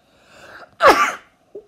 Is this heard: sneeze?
yes